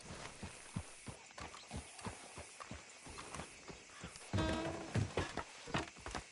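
Horse hooves clip-clopping on a wagon ride in Red Dead Redemption 2, a steady uneven trot of hoofbeats, close and fairly quiet, with a brief louder rattling burst near the end.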